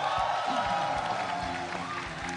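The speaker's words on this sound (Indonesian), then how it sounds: "Tepuk tangan untuk Ari" Audience clapping with some crowd noise at an Indonesian stand-up comedy show, moderately quiet and blended with a tonal hum of stage music or ambience, steady throughout.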